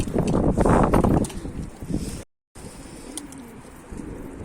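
Mardin tumbler pigeons coo close by, with a louder burst of cooing early on, then softer, scattered calls after a short silence, and light wind in the background.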